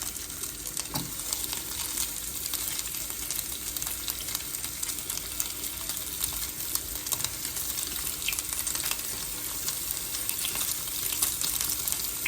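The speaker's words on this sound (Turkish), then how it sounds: "Şöyle tavamızda kızartmaya başlıyoruz" Anchovies sizzle and crackle steadily in hot oil in a pan, a constant close frying hiss with occasional pops.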